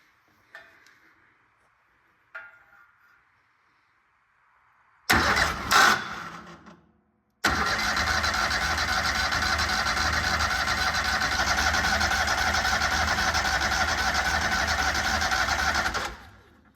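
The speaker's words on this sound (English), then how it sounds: "All I'm wanting to do is spin the engine over to move the rocker arm, which will move the fuel pump." A 22-year-old Walker MTGHS mower engine is cranked by its starter. A couple of faint clicks come first, then a short loud burst, and then a steady loud whirring crank runs for about nine seconds before stopping.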